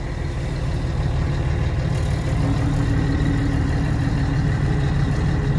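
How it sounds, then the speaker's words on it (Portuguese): Several trucks idle together in a truck yard, a steady low diesel rumble that stays constant and fairly loud with no gaps, no talking over it. "Tem bastante caminhão aqui."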